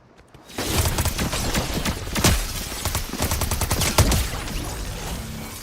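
A bot in a shooting video game lets loose after a quiet start, a rapid, rattling run of gunshots with a few heavier cracks standing out, loud and near, going on in bursts to the end.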